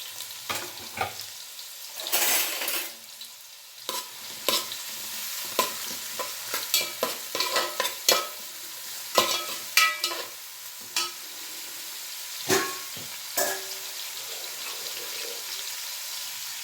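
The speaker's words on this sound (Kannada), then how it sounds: "ಈರುಳ್ಳಿ ಚೆನ್ನಾಗಿ ಫ್ರೈ ಆಗಲಿ." Onion frying in a pan is stirred repeatedly for a radish palya, giving a soft sizzle under frequent sharp scrapes and clinks of a spoon in an uneven rhythm.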